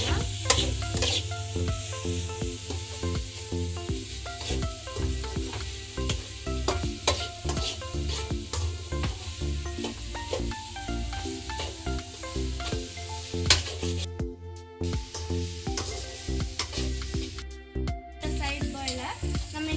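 Cabbage, carrot and egg for egg fried rice fry in a pan with a continuous soft sizzle, while a utensil scrapes and taps the pan in quick, irregular strokes throughout, close and fairly quiet.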